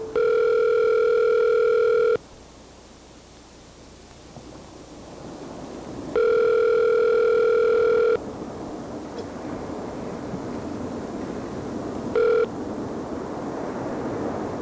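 A steady telephone line tone sounds in loud two-second bursts, repeating about every six seconds with a short final burst, over a continuous background hiss and no talk.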